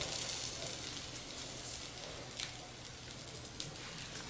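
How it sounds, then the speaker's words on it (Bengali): Bread sizzles steadily on a hot tawa, giving a continuous close crackling hiss with a few brief pops and no voices. "এই ব্রেডটাকে আমি যেদিকে তাওয়া গরম দিক সেদিকে দিয়ে দিচ্ছি"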